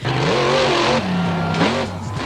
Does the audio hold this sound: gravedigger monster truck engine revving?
yes